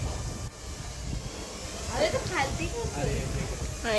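A drone flies overhead outdoors among trees, a thin, airy whine that swells in the second half while voices chatter nearby.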